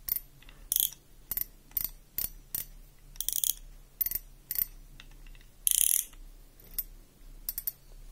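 A cheap spinning fishing reel from Aliexpress gives bursts of rapid ratcheting clicks from its drag as line is pulled off, a dozen or so short close runs of varying length with quiet gaps between, fairly soft overall.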